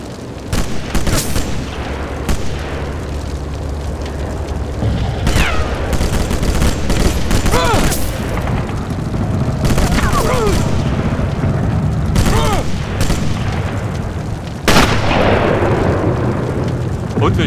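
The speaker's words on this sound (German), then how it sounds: "Merker, mit dem Wanderschreck muss man drauf schießen." Gunfire and explosions from the video game Sniper Elite 7 crack and boom in repeated bursts over a constant battle rumble, loud and dense throughout with no clear talking.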